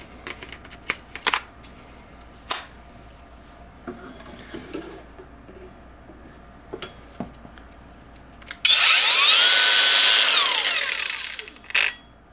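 A SKIL PWR CORE 20 brushless 4-1/2 inch cordless angle grinder spins up after scattered handling clicks and knocks, a loud, close whirring whine that holds for about three seconds and then winds down.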